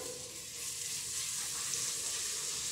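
Garlic sizzling steadily in a hot pan as it is sautéed for a cassava-and-beef broth, a continuous bright frying crackle held at close range throughout with no talking.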